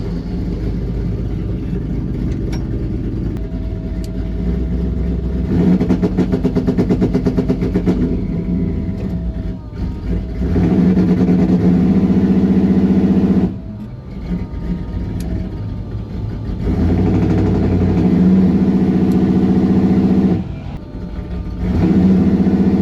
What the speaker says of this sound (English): Let's do a little 2-step check and see if it works.